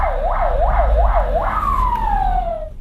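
An ambulance siren sounds as the vehicle pulls up to a barrier in a residential courtyard in Magas. Three loud rising-and-falling wails give way to one long, steadily falling tone over a low engine rumble.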